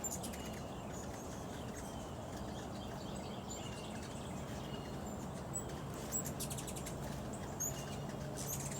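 Hummingbirds on a front porch give faint, scattered high chirps and tweets over a steady background hiss and low rumble.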